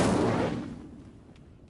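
An Incendio fire spell cast in Hogwarts Legacy gives one sudden loud whooshing burst that fades quickly into a soft tail.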